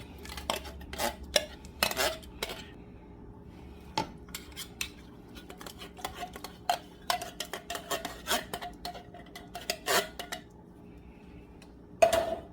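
Cans of seasoned chili pinto beans being added to a chili pot, with sharp metallic clinks, scrapes and taps of a spoon against can and pot, scattered irregularly and fairly quiet, no talking.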